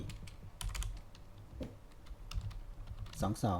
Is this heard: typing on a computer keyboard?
yes